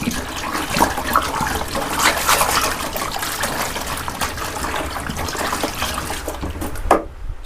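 Dye mixed with water is stirred in a container, a continuous sloshing, trickling swirl at close range that stops abruptly near the end; no voices.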